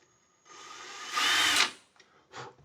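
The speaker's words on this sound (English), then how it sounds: "Drill a little hole." Small power drill cutting a little hole into a guitar at a luthier's bench, rising from a soft whir into a loud second-long bite, followed by two brief fainter bursts.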